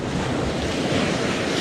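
Sea waves surging and breaking against rocks at a fishing spot, a steady broadband wash of surf with wind buffeting the microphone throughout, close and continuous with no voices.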